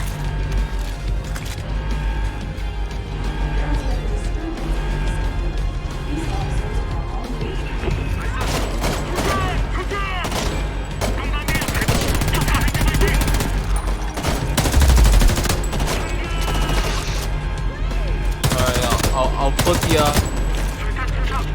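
Gunfire in the video game Homefront The Revolution: dense rapid shots and bursts with impacts and crashes, loud throughout and intensifying midway, with a voice occasionally speaking over the fighting.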